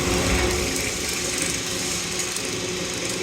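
A rebuilt Kelly Duplex 3-ton concrete mixer runs with its paddles turning, giving a steady close mechanical hum and rattle without pause.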